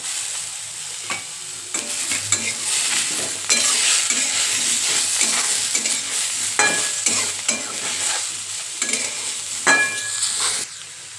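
Two tomatoes sizzle in hot oil with grated coconut over medium heat for Kolhapuri misal, while a spoon scrapes and stirs the pan in repeated sharp strokes over a continuous close frying hiss.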